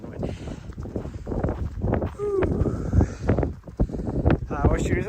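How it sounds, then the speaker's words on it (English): Gusty wind buffets the microphone with low, uneven rumbling, along with scattered footsteps on a trail and a brief voice. "It's really good windy."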